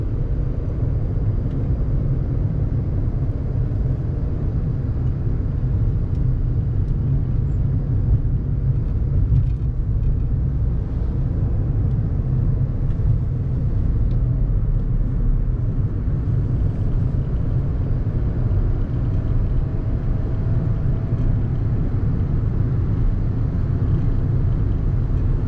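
Inside a VW Fox with a 54 hp engine and a 5-speed manual gearbox, a steady low engine and road rumble drones throughout, with tyre and wind noise and no talking.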